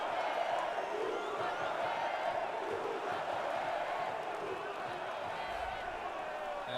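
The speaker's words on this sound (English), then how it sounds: "A little banter, a little trash from the crowd here." Crowd at an MMA fight keeps up a continuous babble of voices with scattered shouts and claps, steady and fairly close, with indistinct talk mixed in throughout.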